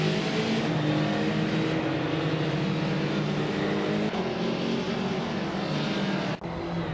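Ford Spec Racer race cars in a racing video game, a steady loud engine drone held throughout with slight pitch shifts, ending in a brief dip near the close.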